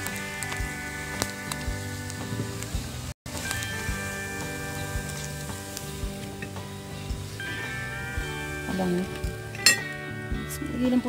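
Chicken feet deep-fry in oil with a strong, continuous sizzle. Occasional clinks of a metal utensil against the pan sound close by, over quiet background music.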